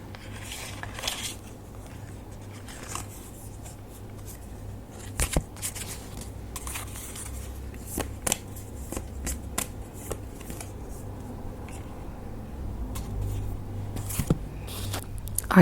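Tarot cards being shuffled close up, with a long run of soft riffling and slapping sounds that come in uneven bursts for about fifteen seconds and grow busier toward the end.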